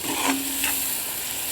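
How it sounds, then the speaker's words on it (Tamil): Onions sauté in a pan with a steady, close sizzle, broken by a couple of brief scraping stirs; no voices. "அதனால் வெங்காயத்தை நல்லா நம்ம வதக்கிக்கலாம்."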